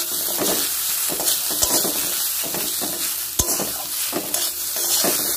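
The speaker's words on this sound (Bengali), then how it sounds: "সব কিছু দিয়ে একটু নেড়ে চেড়ে নেব।" Tomato and spices are stirred in a frying pan, with a steady sizzle overlaid by rhythmic scraping strokes of a spatula and an occasional sharp knock against the pan.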